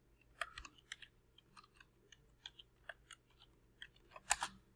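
Quick, uneven taps on a computer keyboard while code is typed, light close clicks scattered irregularly, with a louder cluster of keystrokes near the end.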